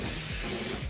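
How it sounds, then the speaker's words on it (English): Air hissing out of 11-inch latex balloons for a first communion balloon arch, a steady broadband rush lasting under a second, close and fairly loud with no voices. "Taking some air out, crossing them, tying them."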